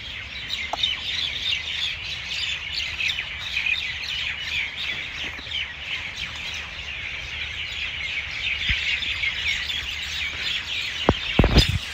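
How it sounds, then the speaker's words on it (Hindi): Birds chirping and calling continuously in the open, several overlapping, with a few sharp squawks near the end. "ये देखो क्या आवाज आ रही पक्षियों की,"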